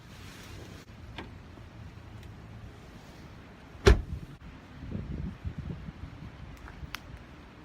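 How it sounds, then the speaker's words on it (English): A person climbs out of a parked car, with faint shuffling and clicks, then one sharp loud clunk of the car door partway through, followed by rustling and movement outside in quiet surroundings. "I'm going to try and get out of the car here,"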